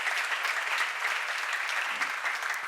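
Steady, dense applause from a church congregation during a seminar, an even wash of many hands clapping without pause and no voices on top.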